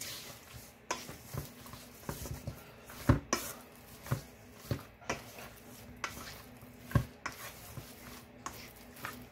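A spoon mixes seasoning and garlic powder in a bowl, giving soft, irregular scraping and clinking taps at low volume, a few sharper knocks standing out, and no speech.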